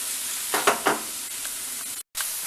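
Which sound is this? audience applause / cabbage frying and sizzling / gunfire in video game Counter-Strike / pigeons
cabbage frying and sizzling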